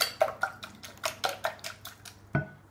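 A spoon stirs buttermilk into eggs in a mixing bowl, making a steady run of light clinks and scrapes against the bowl, about four strokes a second, close and fairly quiet, with no talking.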